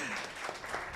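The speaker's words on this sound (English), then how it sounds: "A round of applause for Jemo." Brief burst of audience applause at a climate change prize competition, a dense steady patter of clapping with a voice faintly mixed in.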